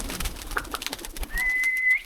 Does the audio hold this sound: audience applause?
no